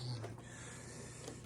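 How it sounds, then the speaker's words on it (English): A Hoover Concept vacuum cleaner with a 2-speed motor runs with a continuous, steady motor whir and hum, constant throughout. "Now it's time for the Hoover Concept."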